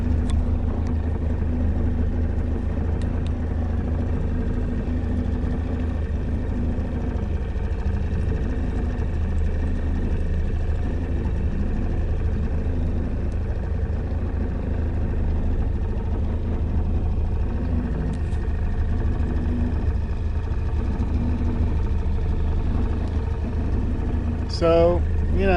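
A steady low engine drone runs throughout, a motor pushing a Capri 22 sailboat, with faint wind and water noise on top.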